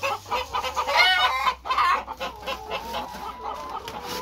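Layer and broiler chickens cluck and squawk nearby in a farm coop during morning feeding, a busy overlapping chorus of hen calls with faint background rustle.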